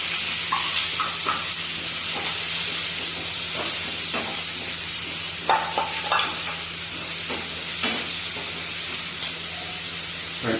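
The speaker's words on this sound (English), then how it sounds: "And onion, we are going to cook till it's golden brown and leave the oil." Onions frying in oil with garam masala for vegetable biryani, a steady close sizzle and crackle with a constant low hum and occasional stirring clicks, no voices.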